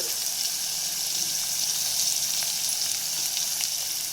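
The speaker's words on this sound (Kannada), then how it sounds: "ನಂತರ ಈರುಳ್ಳಿ, ನಂತರ ಕರಿಬೇವು ಸೊಪ್ಪು ಹಾಗೆ ಮೆಣಸಿನ್ಕಾಯಿ ಒಗ್ಗರಣೆಗೆ. ಇವಾಗ ಬೆಳ್ಳುಳ್ಳಿನ ಹಾಕ್ಕೊಳ್ಳೋಣ." Onion, curry leaves, green chilli and garlic sizzle steadily in hot tempering oil for palak pappu, a continuous close, even hiss with no pauses.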